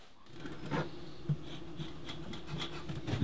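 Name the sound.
bees in an observation hive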